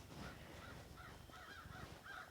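Several crows caw outdoors in a series of hoarse calls, fairly faint and moderately distant, with no talk over them.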